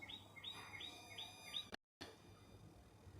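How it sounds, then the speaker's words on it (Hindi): Birds chirp in a quick repeating pattern of bright, high tweets against a quiet background, faint and somewhat distant, with a short dropout partway through and no talking. "चिड़ियों की आवाज़ें आ रही हैं फ्रेंड्स।"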